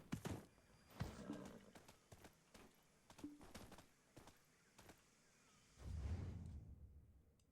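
In the video game Black Desert, a horse whinnies among a run of sharp clip-clopping hooves, with a swishing movement sound and a low thud near the end; quiet, game-like and without talk.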